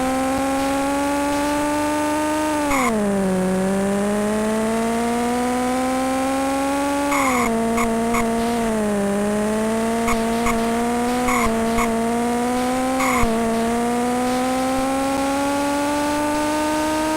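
Synthesized F1 race car engines from a Sega Mega Drive racing game whine continuously and shift pitch with each gear change, with sharp skids and tire squeals punctuating the steady electronic drone.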